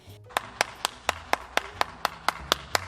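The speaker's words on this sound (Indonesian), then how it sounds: "Berikan tepuk tangan dulu dong buat Tuhan." Children in an online Sunday school session clap their hands in a steady rhythm, about ten sharp, evenly spaced claps, close and distinct over a faint background.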